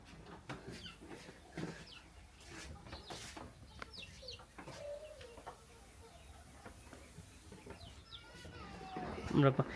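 Chickens cluck intermittently around a Myanmar village house, faint and scattered against an outdoor background with occasional voices and other bird calls.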